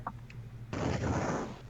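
An explosion sound effect from a CoCo (Tandy Color Computer) video game: a sudden broad burst of noise that holds steady for about a second, preceded by a couple of faint blips.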